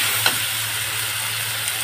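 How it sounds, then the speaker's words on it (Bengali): Spice paste with a pinch of sugar sizzles and fries steadily in a pan while being stirred, a close, continuous hiss with a faint scrape near the start. "দিয়ে আমি মশলাটাকে ভালোভাবে কষিয়ে নেব।"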